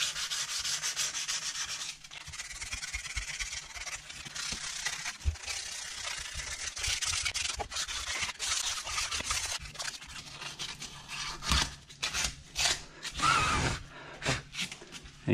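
Yamaha RXS 115 engine case faces are hand sanded with 280 grit paper in continuous rough rubbing strokes. The sanding sounds close, and it breaks into shorter, choppier scrubs near the end.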